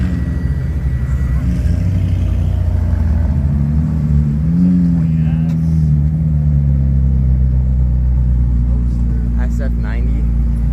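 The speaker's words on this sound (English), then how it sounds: "Another Pagani coming in." A Pagani supercar rolls into a Texas car show with a deep, steady engine rumble and a slight rise in pitch as it approaches, while someone talks over it.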